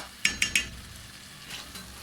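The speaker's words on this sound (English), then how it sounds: "We let that cook with the tomatoes for like 10 minutes before we now add the stock and some soup" Sundried beef stew with tomatoes cooks on raised heat. Three quick utensil clinks against the pot come first, then a soft steady sizzle and bubbling, with no voices.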